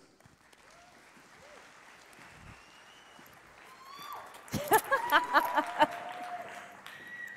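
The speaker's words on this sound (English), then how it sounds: "If we can give her a very big round of applause" Conference audience applauding as a speaker named Paige takes the stage at a BrightonSEO talk, a steady crowd clapping that builds and grows louder toward the end, with a brief laugh heard.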